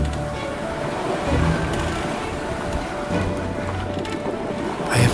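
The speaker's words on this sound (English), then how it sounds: "The waves get higher and higher" Steady wind roars with rising, surging waves on the open Baltic Sea during a freshening rainy blow aboard a single-handed sailboat, a dense continuous wash of water and gusts throughout.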